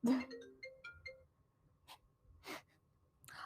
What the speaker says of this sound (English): Thanks, sweetie, for your phone going off